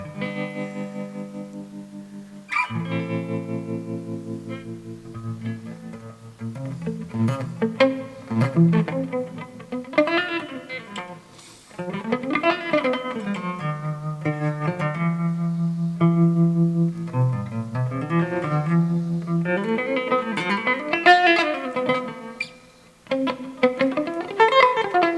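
Electric guitar played clean through a Fender Mustang II amp with a classic tube tremolo emulation, chords and melodic lines pulsing steadily and ringing with a touch of reverb, loud and alone without talk.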